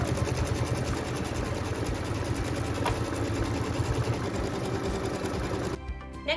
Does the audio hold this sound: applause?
no